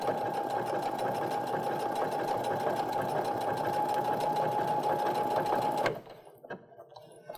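A sewing machine stitches a reverse appliqué snowflake pillow with standard thread, a loud, steady whirring hum that runs without pause and then stops abruptly near the end, leaving a few faint handling sounds.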